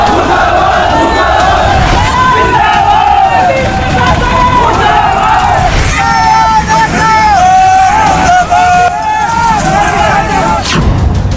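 A large crowd of protesting farmers roaring and chanting together, a loud, dense mass of voices with rising and falling shouts filling the whole stretch, close and continuous.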